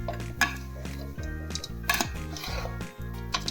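A spoon stirs a dry fruit pak mixture of jaggery and nuts in a pan on low heat, with repeated scraping and clinking strokes against the metal in a steady rhythm, close and clear.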